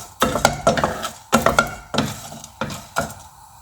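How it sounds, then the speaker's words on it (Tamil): Dry chillies and curry leaves roasting in an empty pan, heard as a series of short, distinct scraping and rattling bursts from stirring, each clatter separated by brief pauses, close and fairly loud. "இதை வெறும் சட்டியில் வெறும்னா வறுக்கணும்."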